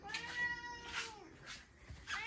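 A white cat meows loudly and insistently indoors, four drawn-out cries in quick succession, close and clear.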